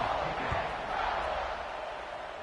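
Dense, steady roar of a football stadium crowd cheering during a kickoff, a broad wash of many voices sustained throughout at moderate distance with no single voice standing out.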